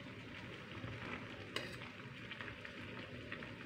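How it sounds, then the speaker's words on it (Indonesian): Hibiscus flowers steeping in a boiling drink being stirred, with a soft, constant bubbling hiss and faint clinks from the pot, quiet and close, with no voices. "Oke, tinggal diaduk-aduk."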